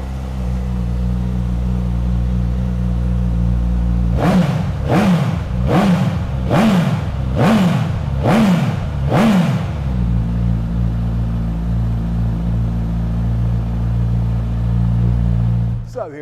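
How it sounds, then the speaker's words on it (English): A Suzuki GSX-S1000 naked superbike starts and gives a run of about seven sharp, rising and falling revs in quick rhythm. The engine is loud and close, then settles into a steady idle. "So let's fire this one up and have a listen."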